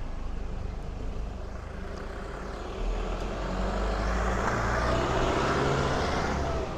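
Cars drive past on a narrow road through the Cotswold village of Snowshill. A broad whoosh of tyres and engines builds midway and stays fairly close and steady to the end, with no talk.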